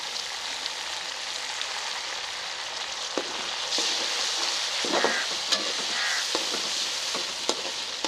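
Masala sizzles in a karahi as it is stirred, a continuous bright frying hiss close by with intermittent spoon scrapes and clicks against the pan.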